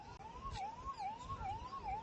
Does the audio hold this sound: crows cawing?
no